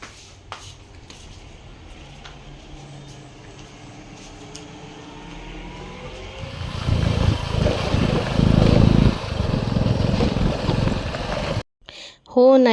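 A motor vehicle passing at night on a dark, rough rural road starts faint, swells into a loud engine rumble over the second half, then cuts off abruptly near the end.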